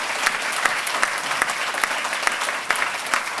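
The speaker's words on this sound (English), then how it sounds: "So give Tim Kaine another round of applause." An audience at a ribbon cutting ceremony in Newport News claps steadily, a dense burst of applause with sharp individual hand claps standing out, heard alone without talk.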